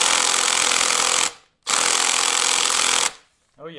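A 21 mm socket on a power tool tightens the rear wheel nut of a GY6 Chinese scooter, giving two loud, steady buzzing bursts of about a second and a half each, separated by a short pause, then a brief voice at the end.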